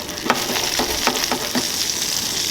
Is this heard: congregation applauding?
no